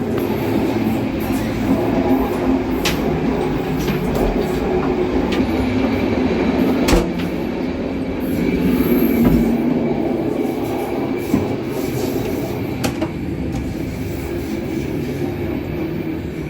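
A train rumbles steadily along the rails in Egypt, with faint clicks and rattles over a continuous low roar from inside a sparsely occupied carriage.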